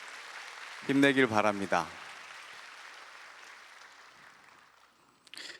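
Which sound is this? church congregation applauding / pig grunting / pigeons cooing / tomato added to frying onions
church congregation applauding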